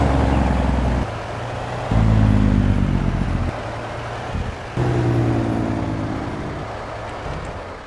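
Heavy truck engine in Farming Simulator 19, a steady low diesel drone that rises and falls as the throttle changes, heard alone without talk.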